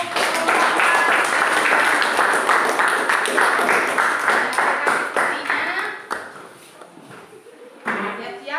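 An audience at a family-themed teaching session claps in a loud, dense burst that thins out toward the end, with some talk and scattered taps mixed in.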